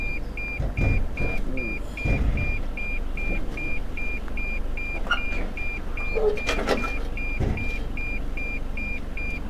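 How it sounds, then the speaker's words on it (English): A 2020 Toyota Hilux crawls slowly through an off-road rut with the rear locker engaged, its underbody scraping in several short, harsh bursts over a steady engine hum and a repeating beep. "We're scratching the bottom, only for a short time though"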